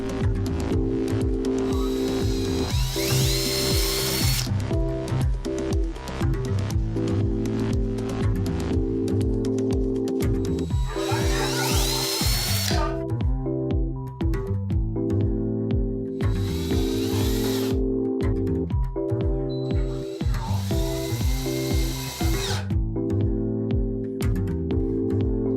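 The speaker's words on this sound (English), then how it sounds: "I marked the center and drilled holes for a swivel VESA mount." A power drill bores holes into MDF for a swivel VESA mount on a scratch-built retro arcade cabinet, heard as four separate whirring bursts of a few seconds each over steady background music.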